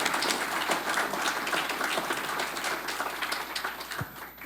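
An audience applauds to welcome Atlanta Mayor Andre Dickens, a dense, steady burst of clapping that stays loud for the whole stretch and thins slightly toward the end.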